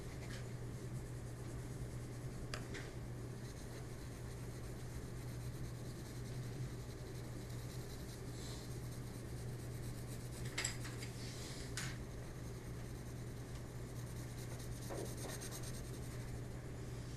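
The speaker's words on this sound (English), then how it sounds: "you will use your blending stump to blend those" A blending stump rubs pencil shading on paper in soft, faint scratchy strokes, repeating quietly over a low steady background hum.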